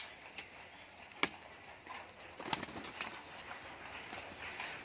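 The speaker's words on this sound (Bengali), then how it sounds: "মানে পায়রা প্রচুর পরিমাণে পায়রা রয়েছে।" Pigeons in a loft of fancy tumbler and spinning breeds in Murshidabad make soft, intermittent cooing and bird calls, with a few sharp sounds of wings or movement over a low ambient background.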